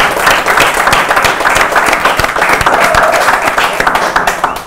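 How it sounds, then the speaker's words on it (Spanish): Loud, dense crowd applause at an Xbox fan event in a Gears of War session, continuous clapping from many people filling the whole stretch without letup. "Un aplauso a todos los que han estado por aquí."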